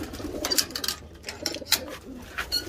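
Pigeons coo close by in a loft housing an imported Teddy bloodline, soft rolling coos repeating in short phrases with a few sharper wing or shuffle sounds between them.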